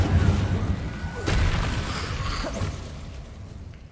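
Incendio fire spell cast in Hogwarts Legacy, a booming whooshing burst of flame that swells and fades out over a few seconds, loud and close.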